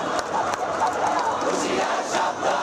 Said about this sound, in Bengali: স্লোগানে প্রকম্পিত হয় শাহবাগ।